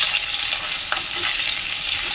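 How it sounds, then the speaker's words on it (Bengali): Green chilies fry in hot oil in a pan for a pickle, giving a steady, close sizzle with a brief stirring scrape partway through and no voices. "এখন এর মধ্যে লঙ্কাগুলো দিয়ে দিচ্ছি।"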